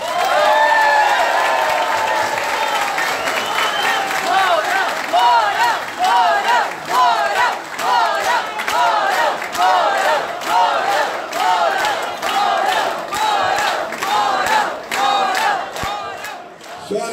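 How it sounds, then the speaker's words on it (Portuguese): Crowd at a political lunch in Porto Alegre cheers and claps loudly for General Hamilton Mourão. Shouting voices ring over sustained applause that swells and pulses in chant-like bursts for the whole stretch. "eu peço uma grande salva de palmas para o nosso líder, General Hamilton Mourão"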